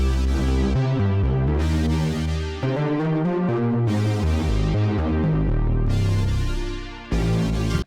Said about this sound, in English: I added some effects to this pad